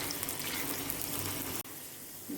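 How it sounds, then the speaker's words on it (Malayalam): Raw papaya pieces frying in hot oil for a kichadi, a steady, loud hiss of bubbling oil that cuts off suddenly partway through. "ഒരു അഞ്ച് മിനിറ്റോളം ഞാനിങ്ങനെ വറുത്തിട്ടുണ്ട് ഇത്ര മതി പിന്നെ നമുക്കിനി കോരിയെടുക്കാം"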